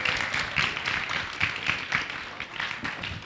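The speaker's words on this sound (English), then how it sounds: "Round of applause for the teachers," Audience applauding the teachers at a science conversation event, a moderate patter of clapping hands sustained for a few seconds with faint voices underneath.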